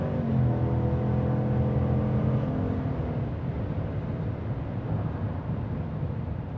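A GMC Sierra Denali Ultimate pickup floored on the I-15 freeway, its engine giving a steady loud drone and rising whir inside the cab as road and wind noise build, with no voices.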